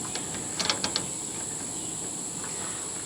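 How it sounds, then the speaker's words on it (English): A nut on a bus awning is tightened, giving a few quick faint metallic clicks near the start over a steady background hum. "you just tighten this nut up and it makes it stable."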